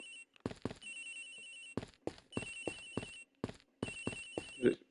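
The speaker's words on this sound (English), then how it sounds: "Agent Hicks' phone is ringing from somewhere, sir." A cell phone in the Ace Attorney Investigations video game rings in repeated electronic bursts with a steady tone and short pauses between them, loud and close, with no talk over it.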